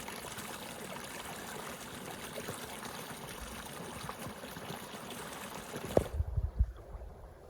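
Steady, close trickling and babbling of a desert creek in Coyote Canyon, Anza Borrego, running continuously and then cutting off abruptly near the end, followed by a few low thumps.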